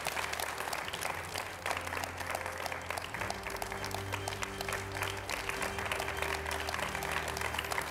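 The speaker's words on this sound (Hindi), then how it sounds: "चलिए तो जोरदार तालियों से स्वागत कीजिए" A TV news debate studio audience greets BJP and Congress spokespeople with dense, continuous clapping over a low musical bed, steady and full throughout.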